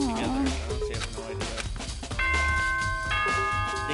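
A Danganronpa video game announcement chime, a few steady bell-like tones sounding at mid-volume over background game music and a talking voice.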